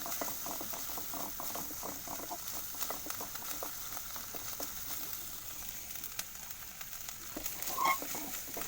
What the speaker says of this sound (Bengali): চিংড়ি মাছগুলো দিয়ে দিয়েছি পেঁয়াজ কুচি রসুন কুচির সাথে